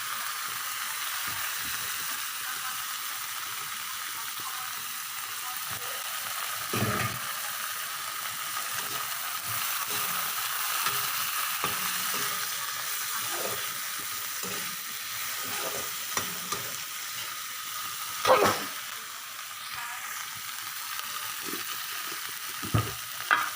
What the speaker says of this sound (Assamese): ঢেকীয়া শাক ভাজি চবেই বনায় ঘৰত